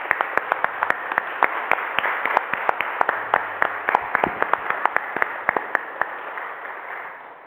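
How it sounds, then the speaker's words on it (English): A church congregation at a worship service applauds, a dense wash of clapping with distinct sharp claps running steadily for about six seconds before tapering off. "if we could give them a round of applause"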